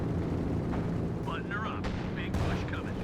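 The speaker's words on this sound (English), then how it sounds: "there's another Calliope barrage" Calliope rocket artillery barrage going off in a competitive World War II strategy match, a dense rumble of blasts with sharp cracks and bursts over a continuous low roar.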